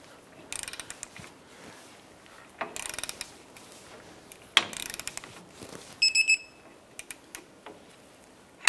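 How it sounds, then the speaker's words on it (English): A torque wrench tightens the lower shock bolt on a 2004-2012 Chevrolet Colorado, giving scattered ratcheting clicks and metallic mechanism sounds in short bursts, with a sharp click-out near the end, close and moderately quiet with no talk. "I'm going to torque this lower shock bolt to"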